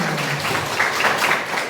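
Hands clapping in a group clap-chant game, a quick run of many overlapping claps forming a steady, fairly loud patter without a distinct beat, heard alone.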